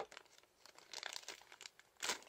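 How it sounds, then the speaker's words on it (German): Plastic packaging from an anime figure order crinkles and rustles in quick bursts as a box is unpacked with scissors, close and fairly soft, ending in a louder crunch of wrapping. "Ich habe eine Schere, ich packe sie aus."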